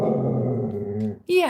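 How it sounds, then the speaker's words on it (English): A dog growls low and steadily for about a second, then a brief higher whine-like vocal follows after a short gap, close and fairly loud with a voice speaking around it. "That's my dog."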